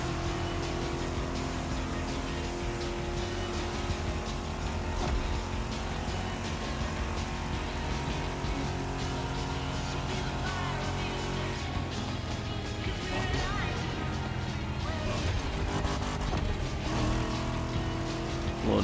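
A car engine in The Crew Motorfest, played with a steering wheel, drones steadily and loudly throughout with shifting revs as the car accelerates and slows.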